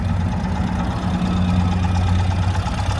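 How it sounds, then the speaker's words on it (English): A 2022 Ural fuel-injected motorcycle engine idles steadily up close after a cold start, a low, even, throbbing rumble with no change in pace for the whole stretch. "Started right up from cold and is idling quite happily."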